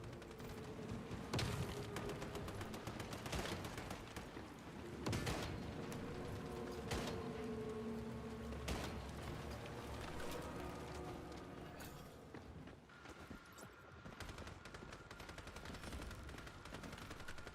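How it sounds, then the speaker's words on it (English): Shots from Jav's pistol in the Once Human game ring out in irregular single cracks and short bursts over a steady background of combat noise, with no talking. "Now I'm using Jav's pistol."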